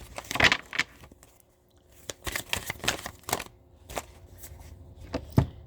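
Playing cards shuffled and riffled by hand, a series of short crisp rustling bursts with brief pauses between them, close and fairly quiet.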